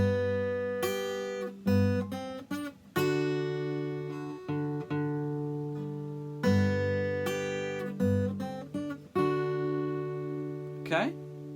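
Classical guitar playing the intro to a song, with plucked melodic notes ringing over sustained lower strings and a final high slide, clear and close, with no voices.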